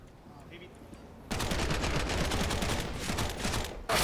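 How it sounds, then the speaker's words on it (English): Slow-motion Mac-10 gunfire from a Counter-Strike replay roars as a loud, continuous burst of stretched, punchy shots after a quiet start, briefly dipping and then returning. "Oh, I like the slow-mo Mac 10 sound. It sounds meaty, punchy."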